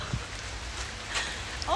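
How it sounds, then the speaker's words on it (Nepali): Hail patters steadily across a surface as a dense, even hiss of small impacts, with a brief voice near the end. "ओ माई गड, असिना पऱ्यो असिना"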